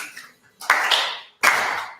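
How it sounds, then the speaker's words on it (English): A church congregation at Riverside CSL claps along to the children's song "If You're Happy & You Know It": two loud, reverberant group claps about a beat apart, each ringing briefly through the room. "Keep clapping."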